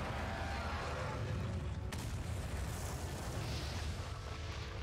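A fire attack explosion in the Monster Hunter Stories 2 video game, a loud continuous rumbling roar with one sharp burst partway through, dense and sustained throughout.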